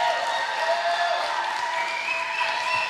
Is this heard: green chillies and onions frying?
no